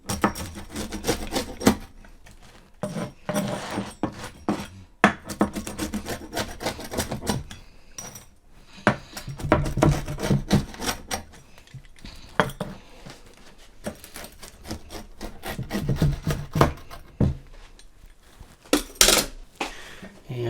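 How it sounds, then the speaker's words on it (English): Freshly cooked pizza from a Piezano 14-inch XL pizza cooker being cut, with irregular scraping, crunching and knocking strokes that come close and moderately loud, pausing briefly between bursts, with no talk. "Go ahead and try to cut it up here"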